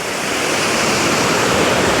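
The Gore Water running through Gore Glen in Scotland, a steady, full rush of flowing water that is close and continuous, with no voices over it.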